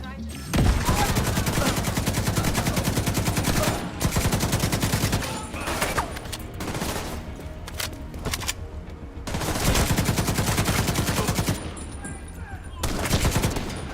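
Machine gun fire in Tom Clancy's The Division 2 crackles in dense, loud rapid bursts with brief pauses between volleys, layered over game ambience.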